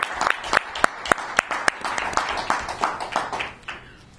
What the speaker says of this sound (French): sous vos applaudissements enthousiastes et nourris, nous accueillons Madame Marie-Léontine Sibinda Bilombo